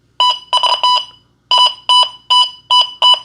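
An XP Deus 2 metal detector sounds its target tone over a big silver ring, a loud, bright beeping warble repeated in short bursts, one pause, then several quick swept signals.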